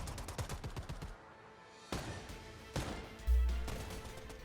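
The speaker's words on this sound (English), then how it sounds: "If you do, it replaces the sound effect with random gunfire." Random gunfire from a suppressed Noisemaker weapon in a video game: rapid bursts of shots, then two sharper cracks and a final heavier blast, fairly faint and without talk.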